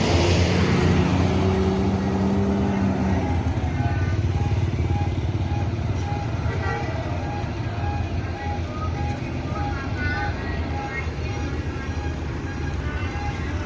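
An Indonesian intercity bus of the Mior line pulling away with a low, steady engine rumble and road noise, a horn-like tone sounding early on, while someone talks over it.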